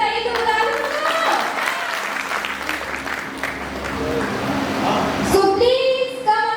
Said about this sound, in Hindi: ऐसे नहीं पर जोर ताली बजाकर बताइए तो बुला लूँ उनको।